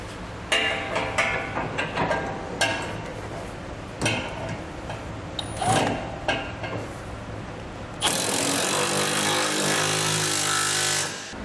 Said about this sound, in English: Now we can tighten the two bolts that connect our rear brace to our center section.